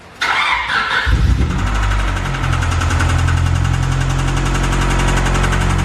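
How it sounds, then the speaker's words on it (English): A blown Honda Civic engine turns over and then runs roughly at idle, a loud, uneven rumbling drone with a knocking, labored character. "I blew the engine up just a little bit"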